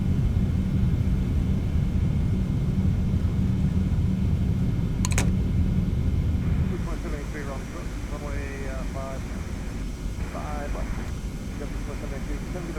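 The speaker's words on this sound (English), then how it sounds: "Reverse thrust deployed." Reverse thrust roar from a TFDI 717-200 airliner rolls out after touchdown in the Prepar3D flight simulator, a loud broadband rumble that dies down partway through, leaving a softer hum with chirpy cockpit tones over it.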